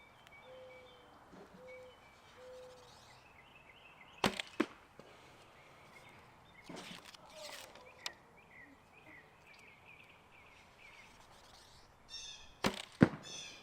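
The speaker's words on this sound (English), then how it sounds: "You hear it hit that backstop. Thump." Arrows strike a foam 3D archery target and pass into the backstop behind it, giving two sharp, solid thumps several seconds apart against a quiet outdoor background with faint bird calls.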